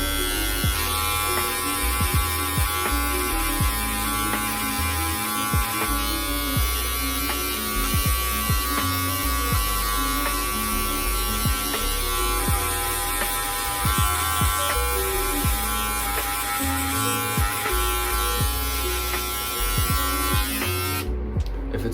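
A self-cut taper fade with an electric hair clipper, its blades buzzing continuously up close while the corners erase a line, with a steady hum and frequent small ticks as the clipper moves over the head.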